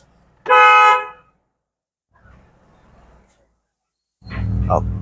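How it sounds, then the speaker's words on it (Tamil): A single loud car horn honk sounds up close during a driving lesson, followed by quiet engine rumble and then another louder engine or horn burst at the end. "ஹார்ன் அடிங்க"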